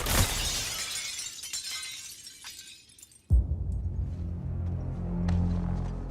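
Glass shatters loudly in a Suicide Squad: Kill the Justice League game cinematic set in the Hall of Justice, a bright crash with scattering debris, then a sudden low rumbling impact and lingering ambience.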